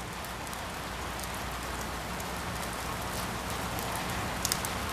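Steady rain falling on the Llanos plains of Venezuela as the rainy season returns, a dense, even hiss of drops with a few sharper patters near the end and no voices.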